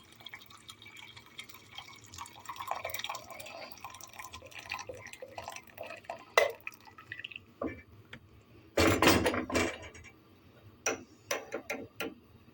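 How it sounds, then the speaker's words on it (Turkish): Boiled water pours and splashes into a cooking pot for a few seconds, surrounded by scattered drips, clinks and kitchen clatter at close range. "kaynattığım suyumu tencereme koyuyorum"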